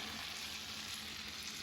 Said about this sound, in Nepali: हाम्रोमा चाहिँ झिलिङ्गा फ्राई हुँदैछ